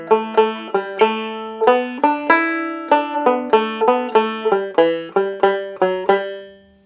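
Irish tenor banjo picking two phrases of Dan Breen's Reel, bright plucked notes in a quick, even reel rhythm, each decaying fast, close and solo without speech.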